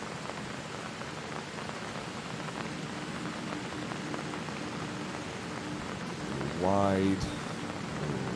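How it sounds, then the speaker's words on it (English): Steady rain falls across a golf course during a professional tournament round, a constant broadband hiss filling the whole clip, with a brief spoken word near the end over the downpour. "This rain's not helping either."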